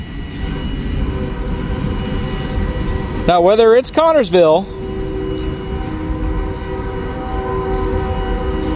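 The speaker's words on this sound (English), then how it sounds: "I hear a horn." A train horn blares for just over a second in a wavering multi-tone blast above steady rumbling rail noise, while someone talks over the scene.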